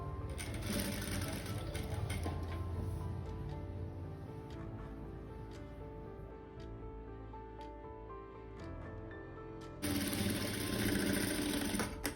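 A sewing machine stitches frills on a lehenga in a steady, fast mechanical whir, fairly faint, dipping quieter in the middle before a stronger burst of stitching at the end.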